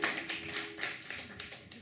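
A concert audience at the Tiehua Village music venue claps in a quiet, dense patter of applause that holds steady for a couple of seconds.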